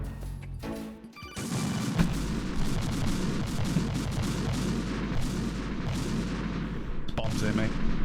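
Bombs exploding in the video game Final Fantasy XVI, a dense, sustained barrage of booming blasts and crackling debris that stays loud and nearly continuous after a brief quieter opening.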